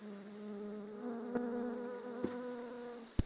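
Vespids, wasps in the game RLCraft, buzzing with a steady droning hum that wavers in pitch, broken by a few sharp clicks, with no voices.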